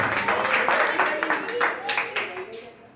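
Students clap in a small coaching-centre classroom in short, uneven bursts, close and fairly loud, mixed with voices talking over the clapping.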